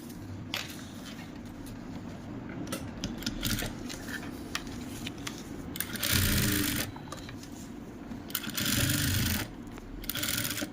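A sewing machine runs top-seam stitching on a kurti at home, close by, in a steady rattling whir. Louder spurts come in bursts of about a second, and the run stays alone with no talk.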